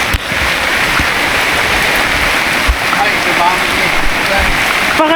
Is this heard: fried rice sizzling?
no